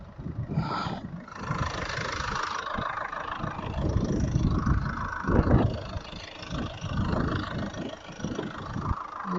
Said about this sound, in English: Can you hear the noise? It's because it's a diesel engine.